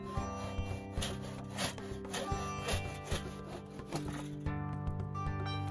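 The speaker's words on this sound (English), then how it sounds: "Usually you just carve in the hole, or you could drill a hole, but I don't have an auger to drill with, so I'm just going to carve it in." A hole being carved by hand into a wooden block for forge bellows, heard as steady close rasping, scraping strokes in an uneven rhythm with a few sharper knocks.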